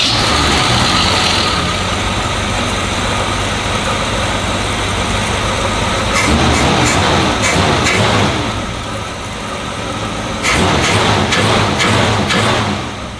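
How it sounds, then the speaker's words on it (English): A Ford inline-six 240ci engine fitted with an Autolite 1100 carburetor runs steadily at close range, a continuous rough idle with a few louder surges partway through and no talking. "all I have to do is set my idle mixture screw open about two turns, pump it a couple times, make sure there's gas, and we'll start it up"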